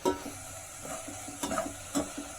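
Onions fry in a pan for a Chettinad vegetable gravy, a low sizzle broken by periodic scraping stirs and light utensil knocks, close and unaccompanied by talk.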